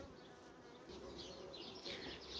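A dense, steady buzz of honeybees at a hive nucleus fills the clip, swelling slightly toward the end, many bees humming close by with no voices.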